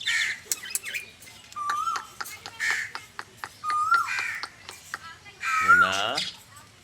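A pet myna bird gives a string of sharp squawks, whistles and chattering calls, loud and close, with clicks in between and a warbling call near the end.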